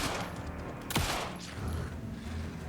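Rapid gunfire from the video game Alan Wake II, a dense flurry of loud shots with a sharp, prominent blast near the start, followed by rumbling action noise.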